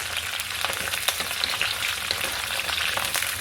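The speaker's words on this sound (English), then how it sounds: "So now we are adding all the drumstick into it, and we will just saute for 5 to 6 minutes" Drumstick pieces sautéing in a pan for sweet and sour pickle make a steady, close frying hiss with light crackles and occasional soft stirring scrapes, and nobody speaks.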